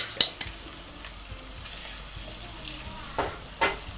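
Semolina roasting in a pan for irmik helvası, with faint dry sizzling under a few sharp spoon scrapes and clinks against the pan, close and sparse.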